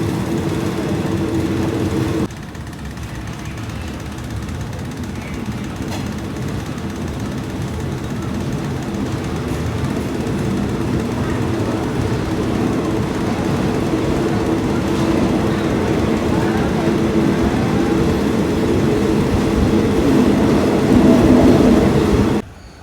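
A train pulls out of Cha-am station in Thailand with a loud, steady rumble that builds slowly as it gathers speed. Rhythmic rail clatter runs throughout until the sound cuts off abruptly at the end.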